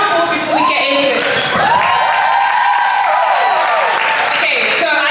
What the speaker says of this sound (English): let's just give them a round of applause before we get into it.